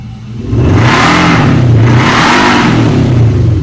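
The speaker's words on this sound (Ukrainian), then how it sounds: "Ось тепер ми бачимо, що звук вихлопної системи відповідає зовнішності цього авто." An Infiniti QX80 SUV with a MAXHAUST electronic exhaust system revs hard twice in quick succession, a loud throaty exhaust roar rising and falling, close by and with no talking.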